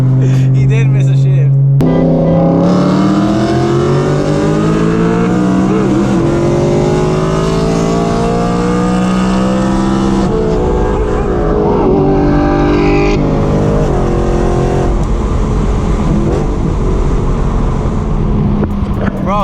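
A BMW M3 and a V8 Audi R8 race from a standing start. A loud engine roars from inside the car, its pitch climbing steadily and dropping back at each gearshift through a long, sustained acceleration.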